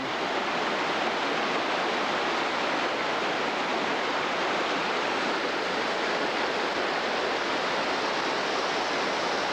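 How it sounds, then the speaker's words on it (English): Steady, full rushing roar of a big waterfall on Laurel Creek in a wilderness area, constant and close with no breaks or voices. "And this runs into the wilderness area, and there's a big waterfall right there."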